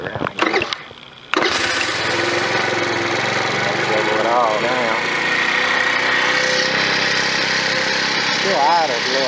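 A 50cc scooter engine catches after a few short cranking bursts, then settles into a steady, slightly high idle that drones on close by, with a voice talking briefly over it.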